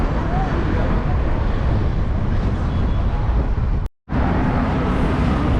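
Steady broadband wind buffeting on a bridge over the River Nile in March, a loud continuous rush with a brief dropout near the end.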